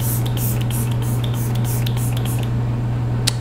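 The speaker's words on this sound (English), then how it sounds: "So we're gonna spray." An e.l.f. Cosmetics Power Grip dewy setting mist spray bottle hisses in quick repeated bursts, a series of short airy sprays over a steady low hum.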